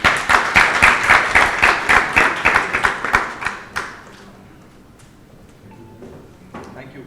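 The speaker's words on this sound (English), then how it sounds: "And round of applause for Dr. Saab as well." Audience applause in a hall at a drone conference, a few seconds of close, rhythmic clapping by a smaller crowd that stops abruptly, leaving quiet room tone with faint murmurs.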